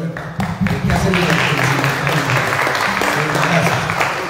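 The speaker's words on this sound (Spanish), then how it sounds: "quiero que le demos un aplauso a Bernardo" Applause from a municipal council session audience in honor of a man named Bernardo, a dense burst of clapping building quickly and holding steady, with some voice mixed in.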